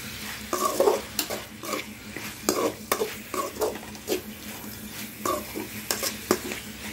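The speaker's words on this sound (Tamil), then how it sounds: "மிளகாய் இருக்கிற காரம் வந்து சிக்கனில் இறங்குற அளவு நல்லா வதக்கி கொடுங்க." Chicken frying with chilli and turmeric in a pan, stirred repeatedly: a steady sizzle under irregular scraping and clinking of a utensil against the pan, moderately close, with no talking.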